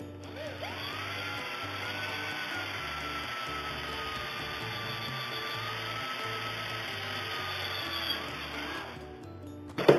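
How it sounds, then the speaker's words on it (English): A power drill runs steadily with a 9/64 inch bit, boring screw holes near the outside edge of a railing on an ebike camper; a continuous whine lasts about nine seconds, close and loud, with no talking. "First I'll start with drilling the holes."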